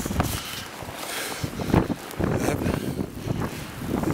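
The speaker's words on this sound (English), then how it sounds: "That's a blizzard for you." Blizzard wind with snow in the Twin Cities, heard as a continuous, loud roaring gust that buffets the microphone with rumbling bursts and no speech.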